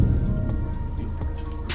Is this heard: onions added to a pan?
no